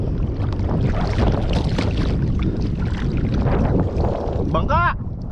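A fishing boat out on the water during an angling tournament, heard as a steady, loud rush of wind and hull noise close to the microphone, with a short whistling chirp near the end.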